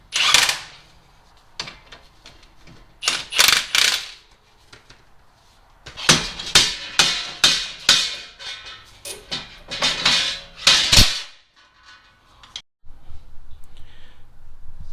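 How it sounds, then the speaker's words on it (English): Hub removal tool working on a Honda Pilot front wheel hub, a series of sharp metallic clicks and ratcheting strokes in uneven clusters, separated by brief quiet gaps, close up. "I'm going to use this tool over here. Works great for removing front hubs."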